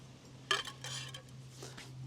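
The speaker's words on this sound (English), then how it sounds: "So I've got this pan from the set I usually use with the pocket rocket." A metal pan from a camping cook set used with a Pocket Rocket stove being handled, giving one sharp clink followed by a few softer scraping knocks against a faint steady hum.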